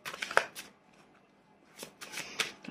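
Cards being shuffled in a tarot-style reading: soft, faint riffling and flicking bursts near the start and again near the end, with a quiet gap between, close by and without talk.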